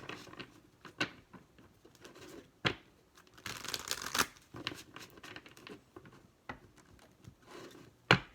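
Tarot cards shuffled by hand, a series of soft riffling flutters and sharp snaps at irregular intervals, close and fairly quiet, with a denser burst of shuffling midway.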